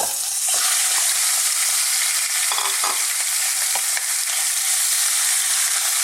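Pork ribs fry in hot corn oil in a pan, giving a loud, continuous bright sizzle with occasional pops and stirring scrapes throughout.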